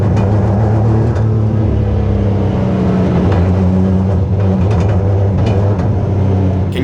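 Legend race car engine held at light part throttle around 20%, a loud close droning rumble that runs unevenly with a slight pulsing stumble, continuous throughout with no speech.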